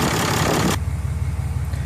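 A 2012 Cummins 6.7-liter diesel pickup engine idles steadily after a brief louder burst of revving, settling into a low, even rumble close by with no talking.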